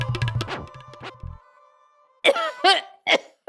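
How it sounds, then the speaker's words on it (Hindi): A mother-in-law in a Hindi family sitcom coughs three times in close succession, loud and near, after a short stretch of other voices and noises. "उत्तरी सासू माँ को खांसी हो गई।"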